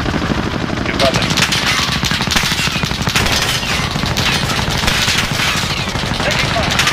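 Video game gunfire roars in rapid, sustained automatic bursts, loud and continuous throughout, with voices mixed in among the shots.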